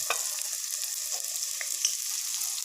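Onion fries in oil in a pan for Maggi masala noodles, giving a steady, fairly soft sizzle with light stirring clicks scattered through it.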